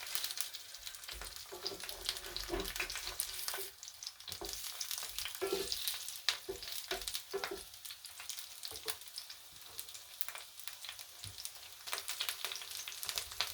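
Vegan beet burger patties fry in a pan with a steady, close sizzle and crackle that runs continuously, with occasional pops and faint stirring or shifting sounds.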